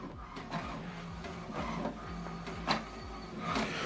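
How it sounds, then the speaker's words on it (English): An HP Deskjet all-in-one inkjet printer runs an alignment page, its carriage shuttling back and forth in a steady rhythm of whirring passes with clicks and clunks, close and clear with no talking. "So what it's doing now, what is printing is alignment."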